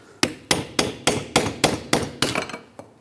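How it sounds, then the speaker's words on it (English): About ten sharp metallic hammer strikes on a pry bar, tapping an inner wheel seal out of a steering knuckle on a 1996–2002 Toyota 4Runner, evenly spaced and close, ringing briefly after each blow. "Take a pry bar and a hammer and just tap it straight out."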